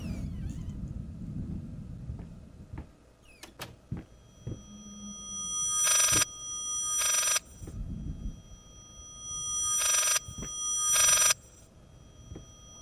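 A painting in the Layers of Fear horror game rings like an old telephone bell, four loud ring bursts in two pairs, with faint low speech and thumps in between.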